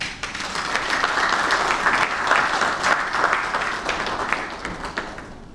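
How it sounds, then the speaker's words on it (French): Audience applause at a formal bond-launch ceremony in Brazzaville, greeting the budget minister: a dense, steady wash of many hands clapping, sustained and fairly loud for the whole stretch with no voices over it. "Sous vos applaudissements, s'il vous plaît."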